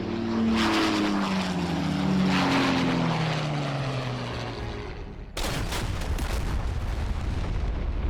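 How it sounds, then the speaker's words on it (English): Low-flying WWII bomber aircraft on a bombing run against a prison during Operation Jericho: a loud propeller-engine roar whose pitch slides downward as it passes close, then an abrupt, harsher full-band roar over the last few seconds. "The remaining 2 New Zealander aircraft come in low from the north and place their bombs just as accurately"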